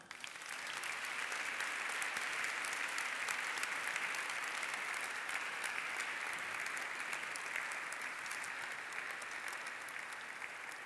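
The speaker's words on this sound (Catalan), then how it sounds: "Jo crec que mereixem tots plegats un fort aplaudiment." Sustained applause from a large audience at a university graduation ceremony, dense steady clapping that fills the room at an even loudness throughout.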